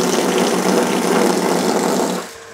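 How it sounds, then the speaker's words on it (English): A Salamander Right Pump pushing water through household pipes after a short air delay, a loud steady rushing gush that fills the whole clip before easing off slightly at the end. "So now it's pumping it up."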